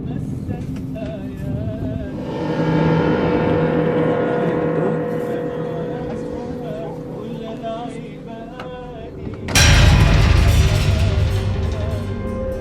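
A car on a lion encounter pulls away in haste, its engine droning loudly and steadily before surging sharply near the end.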